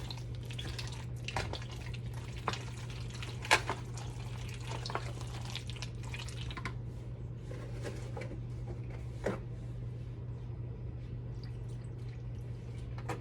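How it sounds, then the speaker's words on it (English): Macaroni noodles being stirred with milk for homemade mac and cheese, giving soft wet sloshing and scattered clinks of a utensil against the pot over a steady low hum, close and fairly quiet with no talking. "You really want to stir this good, y'all, to coat all of the noodles."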